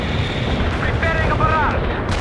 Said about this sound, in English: Preparing a barrage.